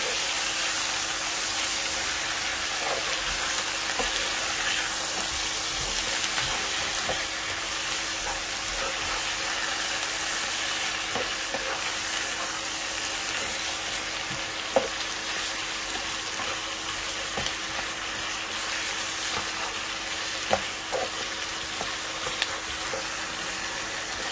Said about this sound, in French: mélange le tout, hein.